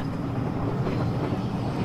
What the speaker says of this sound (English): Hey, another train.